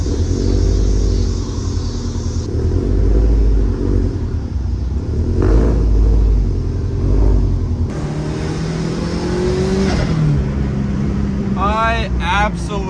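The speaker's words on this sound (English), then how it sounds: "let's warm her up and take her out for a spin" A tuned car engine warming up close by: a deep, steady idle rumble with periodic swells as the throttle is blipped and revved, continuing throughout.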